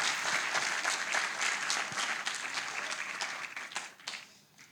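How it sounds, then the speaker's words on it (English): A gathering celebrating the Srimad Bhagavatam breaks into a sustained round of applause for a guest speaker, dense and steady, loud and close, tapering off with a few last claps near the end. "A big round of applause for Vaisesika Maharaj"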